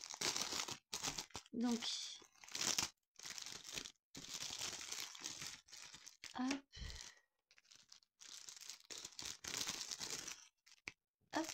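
Crinkling and tearing of a plastic package of paint supplies, several bursts of rustling and ripping close up with short pauses between, and a voice speaking briefly.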